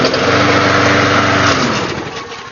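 A lawn mower's small gasoline engine, started by pulling its starter cable, buzzes loudly and steadily up close for about two seconds, then winds down and fades as it stops.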